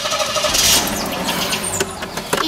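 A large motorcycle engine starts and settles into a rough mid-pitched idle close by, with a brief sharp burst near the end and no talking.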